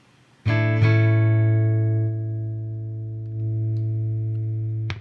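A Rickenbacker electric guitar on the neck pickup at full volume plays two picked notes that ring out with a warm, rounded sustain, followed by a fuller chord that holds and decays.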